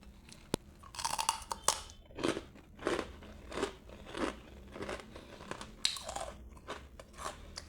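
Crunchy chicharon pork rinds are bitten and chewed up close in a mukbang, with a regular sequence of loud, crackling crunches, one every half second or so, and no talking.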